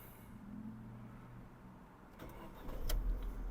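A 2006 Audi A4 B7 with a 1.6 MPI engine cranks and catches, its low rumble rising into a steady idle after a brief stretch of quiet hum.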